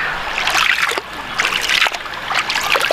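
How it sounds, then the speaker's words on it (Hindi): Water flows and splashes steadily at a hillside spot near Pauri Garhwal in Uttarakhand, a continuous close-up gurgle and spatter with brief dips in level. "ये पानी वहाँ से कहीं आ रहा है।"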